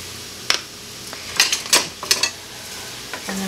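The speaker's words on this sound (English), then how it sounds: "And then we're gonna give that a nice stir." A spoon stirring tomato paste in a pan with a gentle sizzle underneath, a few scraping clinks of metal on the pan bottom in a short cluster, close and fairly quiet.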